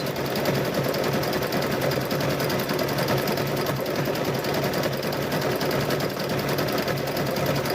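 A sewing machine stitches a quilted Halloween tote bag, its motor humming steadily and loudly without a break, close and alone with no voices.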